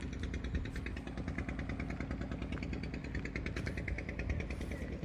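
A motorbike engine runs steadily close up on a village road through woodland, with a constant rumbling drone and mechanical clatter.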